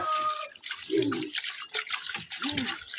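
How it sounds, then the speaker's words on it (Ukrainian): Water splashes and gurgles into a container as it is rinsed, in short bursts with pauses between, fairly close and loud. "перед налий водички трошки сполосни, вилий"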